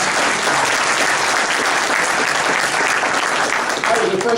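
An audience at a political speech breaks into sustained, dense applause that stays loud and even throughout, with a voice faintly underneath.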